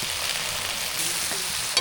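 Raw plantain fry coated in garam masala, chilli powder and turmeric sizzling in a pan, a steady hissing crackle close by with a small clink near the end.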